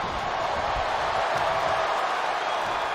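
A wrestling arena crowd in the WWE 2K22 video game roars in a steady, dense wash of cheering during a Sheamus versus Bobby Lashley main event, with no talk over it.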